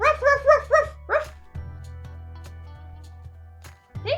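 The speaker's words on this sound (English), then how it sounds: "Oh, look. A dog. It's a dog." A dog gives a quick run of yapping barks near the start, then a lone bark; afterward only a low steady hum and faint clicks remain, with another short bark right at the end.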